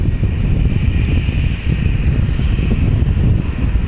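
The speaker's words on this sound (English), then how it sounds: "we also have a Legacy 600 private owner landing as well" A Legacy 600 private jet landing at London City Airport, heard as a loud, steady engine roar with wind buffeting across the microphone and no talking.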